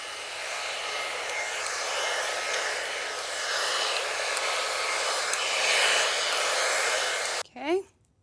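A T3 AireBrush Duo blow dry brush runs steadily and loudly, a constant airy whir blowing through hair for several seconds before cutting off abruptly near the end, followed by a brief rustle.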